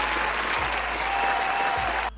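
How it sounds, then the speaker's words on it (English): Applause from a show audience, a dense, steady wash of clapping that holds loud and even for about two seconds before cutting off abruptly. "I have to give you guys a round of applause"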